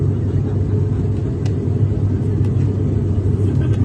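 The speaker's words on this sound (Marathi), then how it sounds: "विमान आणखीन उंचीवर चाललेलं आहे" A steady, loud low engine drone rumbles throughout from inside a plane cabin as the airliner climbs after takeoff from Solapur, with a constant roar and no voices.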